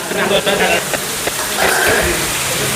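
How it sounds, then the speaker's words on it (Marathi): Heavy rain falls steadily outside a Konkan village home during a Tulsi Vivah celebration, a continuous wash of noise with voices talking over it. "बाहेर एवढं मरणा जो पाऊस पडत आहे"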